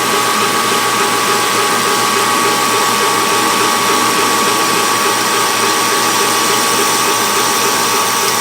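Metal being turned on a lathe with coolant mist spraying, a loud continuous whirring roar that stays level throughout with no pauses or talking.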